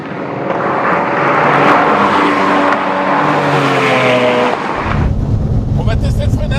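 The engine of a Porsche 996 GT Club Sport drones loudly from inside the car while driving, with rising tones climbing through the revs before a gear change drops it into a lower rumble, and people talk over it.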